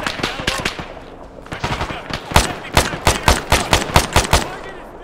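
Rapid machine-gun bursts in Arma 3, loud and close, with the shots coming as sharp repeated cracks and growing more evenly spaced toward the end, under faint background chatter.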